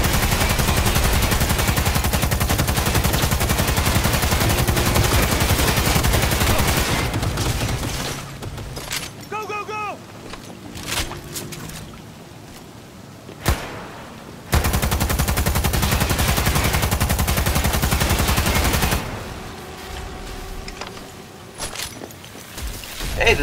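Gunfire in Cyberpunk 2077 during a warehouse raid: long loud bursts of rapid automatic fire, broken by a short lull with scattered single shots, then another sustained volley.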